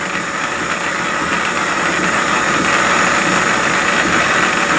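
An old electric motor drives a lathe, giving a loud, steady hum and whir with an even hiss that holds constant throughout, close by and without talk.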